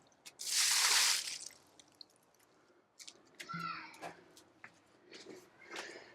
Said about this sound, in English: Just tip this water out.